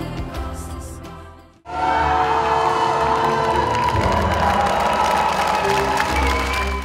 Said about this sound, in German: Jubel und Begeisterung in der Hub Coburg Arena.